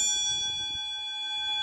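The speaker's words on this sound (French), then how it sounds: "Et la cloche, c'est ça." An old-style small bell rings out with a bright, sustained metallic tone that hangs and slowly fades, heard clearly and up close with no one talking over it.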